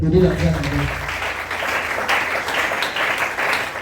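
A church congregation applauding, a dense steady wash of clapping that starts under a preacher's voice and continues on its own.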